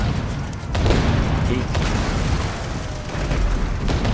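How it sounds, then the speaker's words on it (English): Hand cannons fire in a rumbling barrage as buildings collapse in a large 8v8 strategy game battle, with sustained booms and bursts under continuous commentary. "Badak has got hand cannons and buildings are just going down"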